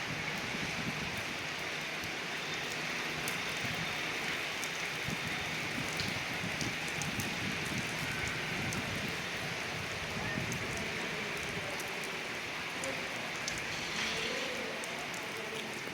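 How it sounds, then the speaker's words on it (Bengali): Heavy rain in Oman, a constant dense hiss of falling rain on surfaces, steady and fairly close throughout, with no talk. "আবার দেখো কিভাবে বৃষ্টি হইতেছে।"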